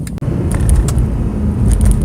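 A Mercedes C63 AMG's exhaust rumbles loud and close, with a sharp crackling pop early and a few lighter pops scattered through the deep engine drone.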